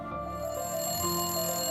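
A telephone bell rings steadily, a clear, sustained electronic ring heard alone with no voices.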